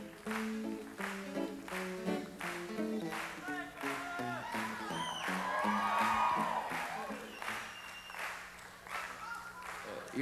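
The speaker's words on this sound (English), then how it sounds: "You're clapping on my solo there." An audience at a gospel music performance claps steadily in rhythm over a musical solo, with cheers and whoops swelling midway, moderately loud and mixed with singing and music.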